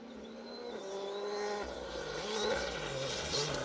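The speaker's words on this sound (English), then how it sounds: "We've got Colin Minton though coming towards us by the sounds of it. I can hear an R5 in the distance." Distant R5 rally car with a dayglow orange roof air intake, driven by Colin Minton, approaching along a Plains Rally 4WD stage, its engine note rising and building steadily in loudness as it nears.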